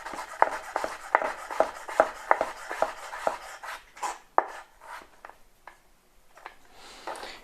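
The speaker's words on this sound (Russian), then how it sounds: "И затем тонко нарезать шкуру." A knife thinly slices cucumber peel on a cutting board for sushi rolls, with a brisk series of crisp, close taps that slow into scattered cuts.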